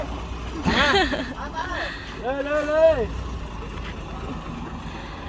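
A tractor engine runs with a steady low rumble throughout, near and moderately loud, while people talk over it at a rural house where rock is being delivered.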